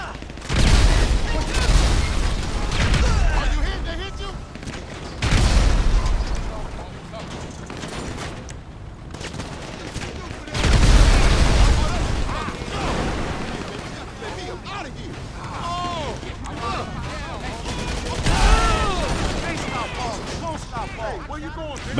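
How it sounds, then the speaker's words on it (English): Gunfire from a magazine being emptied in GTA 5 Online comes in several loud bursts of rapid shots and booms, spaced a few seconds apart, with someone talking over and between them. "Mag dump."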